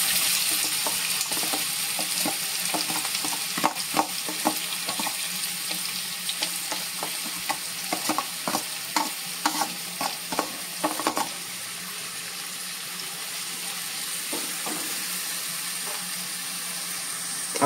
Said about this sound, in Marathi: हा कांदा मी टाकलाय, असा परतून घेतोय.